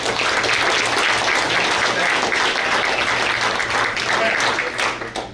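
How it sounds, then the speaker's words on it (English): Steady, full applause fills a room at a ring ceremony for state champion wrestlers, continuous and dense for several seconds with faint voices underneath. "Give them guys a round of applause"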